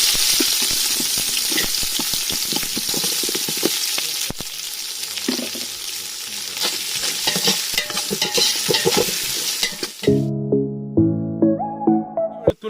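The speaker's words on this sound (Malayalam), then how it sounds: "നമുക്ക് ഇതിലേക്ക് നമുക്ക് കുറച്ച് സവാള ഇട്ട് കൊടുക്കാം" Onions fry in hot oil with whole spices for Kaithi biryani, giving a loud, close, continuous sizzle with steady stirring scrapes, then it cuts off and gives way to a few tonal clangs and taps near the end, with no talk.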